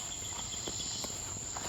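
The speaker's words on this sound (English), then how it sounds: "I'm also hearing what I think are sage trigs." Sage trigs and Robinson cicadas call together in a steady, high, thin trill, a continuous insect drone held at low volume with a few soft rustles underneath.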